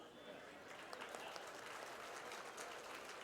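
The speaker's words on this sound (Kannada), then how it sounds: "ಆದರೆ ಇದಕ್ಕೆ ಚಪ್ಪಾಳೆ ತಟ್ಟಬೇಕು." Applause from a crowd at a Congress party gathering, a dense steady patter of many hands clapping at a distance, with scattered louder claps over the continuous wash.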